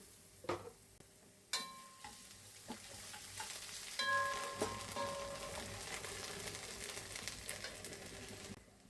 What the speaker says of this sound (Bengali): আমি মশলাটা তেলে ভাজা করে নিলাম